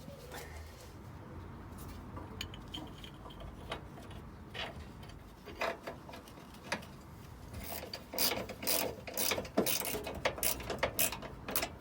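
A ratchet or spanner works headlight bracket bolts on a Ford Focus ST170 under restoration, sounding as quiet mechanical ticking and clicking that grows into denser, louder bursts of short metallic clicks toward the end.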